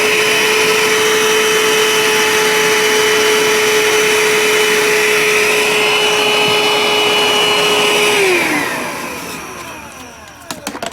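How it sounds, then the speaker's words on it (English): A small Black & Decker handheld vacuum cleans dust out of a camper door track, running at a steady loud whine for about eight seconds, then spinning down as it is switched off. "we carry this little Black & Decker vacuum with us"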